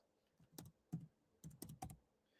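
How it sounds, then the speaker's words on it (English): Typing on a computer keyboard: about half a dozen faint, separate key clicks in an uneven rhythm, heard alone in a quiet room. "I'm typing it in now."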